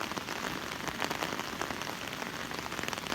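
Heavy storm rain falls steadily on surfaces in a rural forest area of southern Laos, forming a dense, constant patter close by without any pauses or voices.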